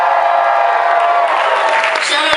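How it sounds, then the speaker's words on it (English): Graduating high school class at a graduation ceremony cheering loudly, a dense wash of crowd voices, whoops and shouts sustained throughout, rising slightly toward the end. "Class of 2K14, let me hear your cheer"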